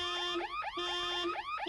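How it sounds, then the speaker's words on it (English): A car alarm in the 7 Days to Die survival game wails in rapid repeating electronic sweeps, several cycles in quick succession, clear and fairly loud. "Car alarm stuns you. It makes noise, but it doesn't really attract zombies."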